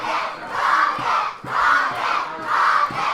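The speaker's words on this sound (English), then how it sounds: "You can hear the crowd in favor of the Rocket here tonight." A wrestling crowd in Oakdale roars for the Rocket at a heavyweight championship match, loud surging waves of cheering and chanting rising and falling in a steady rhythm.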